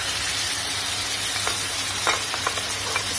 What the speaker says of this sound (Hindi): मसाले और टमाटर हमारा अच्छे से भून पाएगा